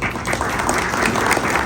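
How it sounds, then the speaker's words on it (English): Loud, dense applause from a crowd at a volunteers' appreciation gala, a close, continuous wash of clapping through the whole short stretch. "I would like everybody to have a huge round of applause for all of us."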